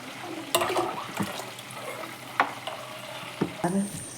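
Lentil broth (katt saaru) bubbles and clatters wetly in a pot, with a few sharp scrapes and knocks from stirring, fairly close and moderate in volume.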